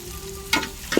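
Tomatoes sautéing in a pan for chicken biryani, a soft sizzle with a couple of brief louder stirring scrapes, close and fairly quiet, with no talking.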